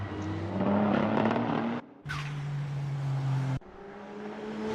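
A GT3 race car in a racing video game roars past the finish line, a loud, steady engine drone with abrupt cuts between shifts and a brief higher whine, no talk over it.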